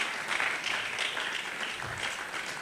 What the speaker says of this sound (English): Please keep clapping until he gets here.